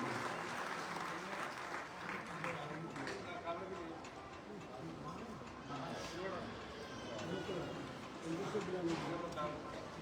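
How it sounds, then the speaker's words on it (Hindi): Audience clapping in welcome at a Hindu religious festival gathering, dense steady applause throughout with people talking over it. "एक बार अच्छी ताली बजा करके स्वागत करिए।"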